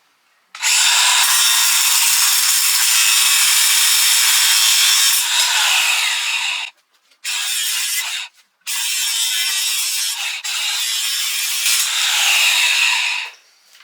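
Metal bolts are cut off a boat trailer, making a loud, harsh, continuous cutting noise in long bursts separated by brief pauses.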